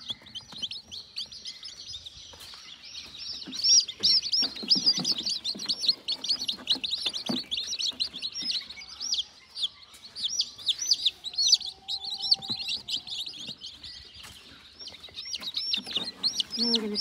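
Silkie and Faverolle chicks peep in a steady, busy chorus of high chirps, close and continuous, with brief handling noises and a few low thumps mixed in.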